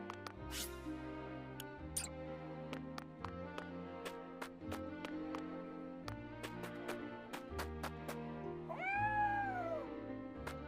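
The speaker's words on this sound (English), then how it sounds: "No, just a cat." A cat in the video game Triangle Strategy meows repeatedly over layered game music, with one longer, drawn-out meow near the end standing out clearly.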